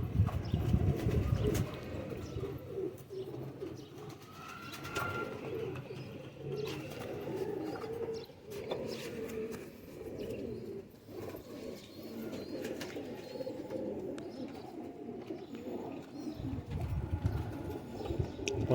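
Ferozpuri pigeons coo steadily in low, rolling, overlapping calls, close and moderately loud throughout, with light rustling and background noise in a loft setting.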